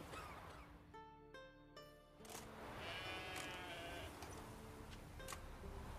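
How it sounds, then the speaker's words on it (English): Sheep bleating in The Witcher 3 game world, several distinct harmonic bleats close by in quick succession early on, then a louder, busier stretch of ambient game sound with a few higher calls and no one talking. "Know how to get a sheep to move where you want?"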